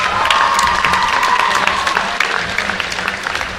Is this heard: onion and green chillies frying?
no